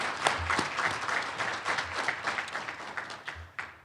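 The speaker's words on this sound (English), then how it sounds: "one more round of applause" Audience at an educator of the year awards banquet applauds steadily with dense clapping that holds for a few seconds before tapering off, no voices over it.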